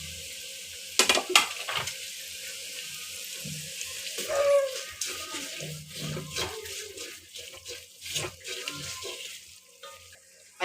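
Dried red chilies and mustard seeds frying in oil for a mango pickle, faint crackles and sizzles with clanking and stirring bursts, fairly quiet and uneven.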